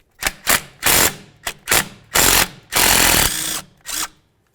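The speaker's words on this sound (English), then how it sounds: "I'm going to go ahead and use a 10mm to remove that bolt." A ratchet with a 10mm socket backs out a strut bracket bolt on a 2000-2005 Buick LeSabre, several close bursts of rapid clicking separated by short pauses.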